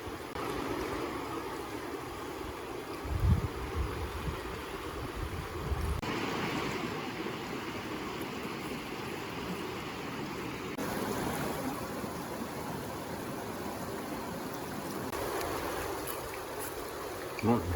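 Water flowing and splashing during a sluice box clean-out while gold prospecting at a river campground, a steady rushing wash with occasional knocks, with talk at times.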